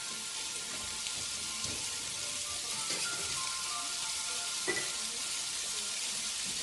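Butter melting and sizzling in a hot cast iron skillet as the base for a roux, a steady hiss close by with a few soft pops and crackles throughout.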